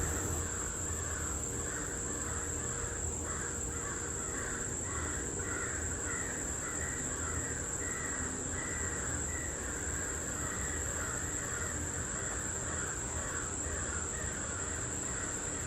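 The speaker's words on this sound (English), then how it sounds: "Crows are noisy today, my goodness." Crows caw repeatedly and loudly in rough, overlapping bursts throughout, over a steady high insect drone outdoors on rural acreage.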